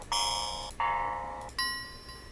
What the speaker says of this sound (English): So now I got these bells.